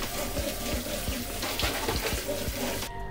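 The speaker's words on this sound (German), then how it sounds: "Nach 2 Minuten gieße ich das gesamte Wasser ab und brause die Kichererbsen kurz mit frischem Wasser nach." Fresh water running steadily from a kitchen tap over chickpeas in the sink, a continuous close splashing rush with faint clatter, cut off at the end.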